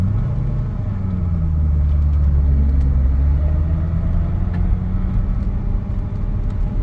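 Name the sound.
Corvette ZR1 engine revving toward redline in first gear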